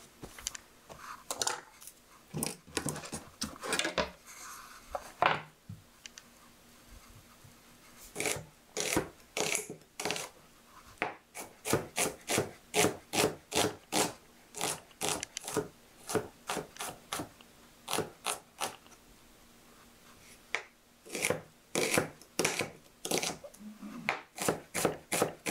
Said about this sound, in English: So first thing we're going to do is chop up some onion and green pepper.